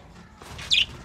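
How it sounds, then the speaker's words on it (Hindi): A pet parrot in a cage gives one short, bright chirp against a quiet room background. "देखे कितने प्यारे प्यारे तोते हैं"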